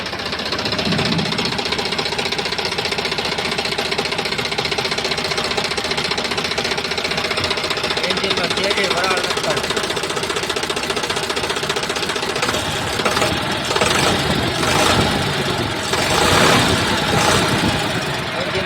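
A Sonalika DI 60 RX three-cylinder tractor engine chugs along at a steady idle, a continuous knocking mechanical drone with some variation toward the end.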